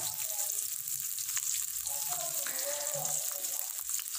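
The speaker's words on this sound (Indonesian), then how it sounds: "sekarang kita tumis dulu seperti biasa bawang merah sama bawang putihnya" Shallots and garlic sautéing in hot oil over a high flame, a steady close sizzle with faint clinks, running throughout.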